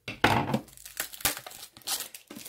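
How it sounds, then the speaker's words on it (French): Plastic blister packaging is crinkled and torn away from Pokémon card boxes through pre-punched holes, giving a series of close, sharp crackling and tearing bursts with brief pauses between them. "J'ai fait les petits trous, comme ça j'enlève les blisters"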